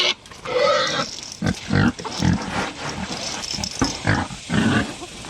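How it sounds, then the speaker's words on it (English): Pigs on a homestead grunt and snort in short, close bursts, one sound after another, with a few squeals and some faint background noise. "That was a pig, yeah."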